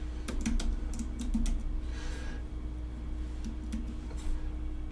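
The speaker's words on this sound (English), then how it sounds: "I'm going to type deep tempo" Fingers type on a computer keyboard in a short burst of crisp, close key clicks, pause briefly, then add a few more taps over a low steady room hum, with nobody speaking.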